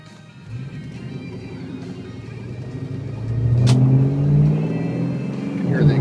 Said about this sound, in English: You can hear the exhaust, definitely makes some noise